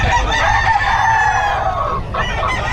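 A rooster crows loudly in one long, drawn-out call, close by, with clucking from other chickens around it.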